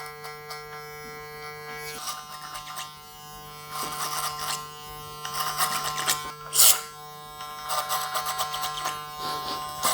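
Electric hair clippers taper the front of a buzz cut, a steady close buzz that rises and falls as the blades pass through the hair, with short louder bursts.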